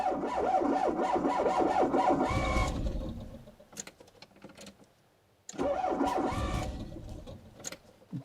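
The engine of a Citroën BX 16Valve, unused for 18 years, cranks and sputters, catching briefly twice with rough revs, separated by a lull with a few clicks and clanks.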